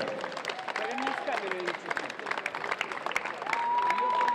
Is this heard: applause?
yes